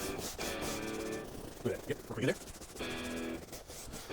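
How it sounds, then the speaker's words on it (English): Shoes being shined, with old wax and dirt rubbed off: a steady brushing and rubbing sound runs through most of the clip, with a brief burst of sharper scuffs in the middle, all under a faint background voice. "Now we can go ahead, shine our shoes."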